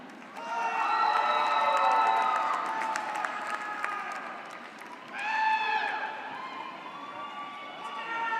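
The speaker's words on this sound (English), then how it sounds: "Let's give one more round of applause for our graduates" Applause for graduates at a fall commencement ceremony: a large crowd claps and cheers with shrill whistles and whoops, swelling loudly at the start, easing off, then surging again near the end.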